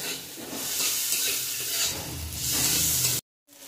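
Steady sizzling of flat bean paste lightly frying in a pan, with scraping stir strokes over the hiss, then a brief cut to silence.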